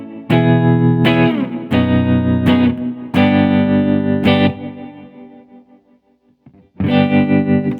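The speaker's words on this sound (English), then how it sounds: "there you hear the reverberated sound is being affected by the envelope of the" Electric guitar chords through a Strymon Flint pedal ring out with heavy reverb, their tails pulsing in a wavering tremolo as they fade, several strummed hits separated by short decays.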